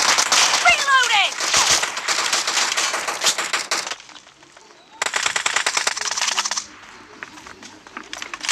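Shotgun fire in a team-based shooter video game comes as loud, rapid bursts of blasts, split by a short near-silent gap, with game effects mixed in.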